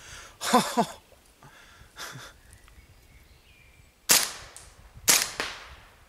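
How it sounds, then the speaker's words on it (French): Four sharp, loud pops from an airsoft gun firing BBs, unevenly spaced, each a crisp crack that fades quickly in a quiet space. "j'avais oublié que les premières billes claquaient autant sur celui-là"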